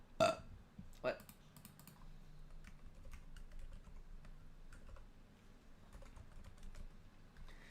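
Keys clack on a custom-built computer keyboard in scattered bursts and single taps, a couple of louder strikes early on, with quiet room noise between presses.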